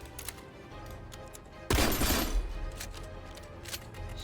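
Video game gunfire in an indie game: a sudden loud burst of shots breaks in midway over a quieter ticking background, then settles into a sustained rattling wash.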